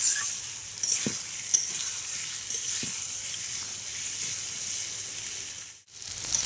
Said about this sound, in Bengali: এবার মশলাটা আমি আরেকটু কষিয়ে নেব।